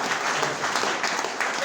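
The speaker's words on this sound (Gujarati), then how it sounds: "એકવાર જોરદાર તાળી એમના માટે." An audience claps together in a sustained burst of applause, dense and fairly close, continuing for the whole moment with no break.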